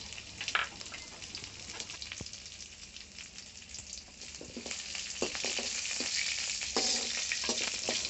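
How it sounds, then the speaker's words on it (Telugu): Cumin, mustard seeds and dried red chillies crackle in hot oil in a kadai for a tempering, a faint sizzle that grows louder and denser with scattered popping seeds and occasional stirring, no speech. "నూనె వేడెక్కిన తర్వాత జీలకర్ర, ఆవాలు వేసుకుందాం."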